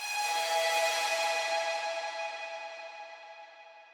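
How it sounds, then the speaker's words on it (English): A distorted synth lead fill built from Serum presets rings out as a bright, buzzy sustained tone that fades gradually over a few seconds, heard on its own with no voices. "I made a distorted lead fill which sounds like this."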